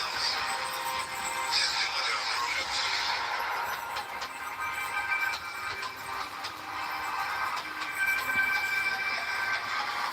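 A class 66 diesel locomotive model runs on a model railway layout, with a continuous hiss and whir from the small motor and faint clicks of the wheels on track joints, fairly quiet and steady throughout.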